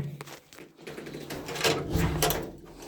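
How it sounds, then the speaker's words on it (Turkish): A door is opened in a village house, with a few knocking and rattling clunks up close and a louder creaky sweep near the end over a faint background hum. "Dur ben kapıyı açayım da."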